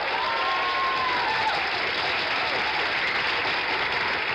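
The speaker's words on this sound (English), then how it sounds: "The way all your friends keep applauding you" A 1970s television game show studio audience applauds a contestant, with steady, dense clapping held at an even level throughout, loud and close.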